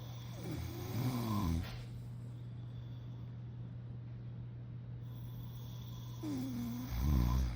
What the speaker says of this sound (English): This is a video sent to a group chat of me snoring.